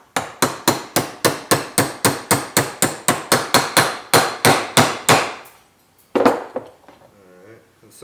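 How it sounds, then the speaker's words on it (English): A hammer strikes a punch to drive a part out of a CF Moto ZForce 800 front differential held in a vise, about twenty sharp, evenly spaced metallic blows, close and loud, then a pause and a couple of final hits. "It's not very hard to pound it out."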